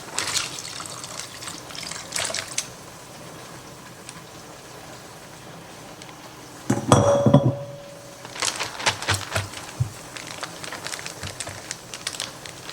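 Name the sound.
pouring beef stroganoff into a freezer bag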